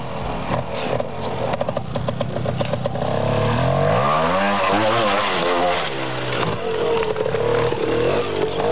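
A trial motorcycle engine revs loudly at a 1989 French trial event in Saint Pantaleon, rising and falling in pitch as the rider works the throttle, close and continuous.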